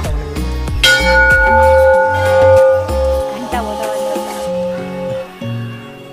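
A metal bell at the Chamunda temple in Kasganj rings out with a bright struck tone that hangs and slowly decays, over a busy background with music-like tones and no clear talk.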